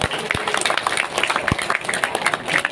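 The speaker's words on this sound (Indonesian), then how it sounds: "tepuk tangan buat Rogle." Crowd clapping at a boxing camp event, brisk overlapping applause with a loud voice speaking over it and scattered sharp claps up close.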